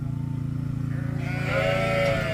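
A sheep about to be sheared gives a drawn-out bleat that rises in the second half, heard close over a steady low mechanical hum from the shearing shed.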